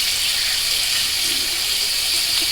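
Tap water runs steadily over a Merkur 37C safety razor to rinse out shaving soap, giving a bright, continuous hiss at close range with no pauses.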